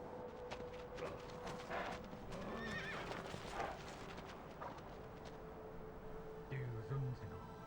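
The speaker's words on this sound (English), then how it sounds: "This is Emon, the shaman, on the white horse." A white horse in Shadow of the Colossus on the PS2, clip-clopping hooves throughout with a neigh, fairly faint under a rumbling game background, and someone talking over it.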